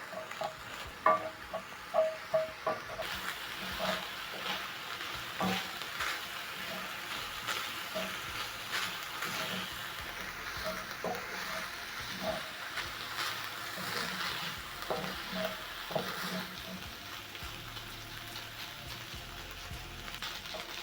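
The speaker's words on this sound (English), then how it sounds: "let the onions cook for about a minute to soften up and release all the nice flavors from the onions and garlic and ginger" Onions, garlic and ginger softening in a pot for a minute, a fairly quiet sizzle broken by irregular spatula scrapes and clacks over about twenty seconds, no speech.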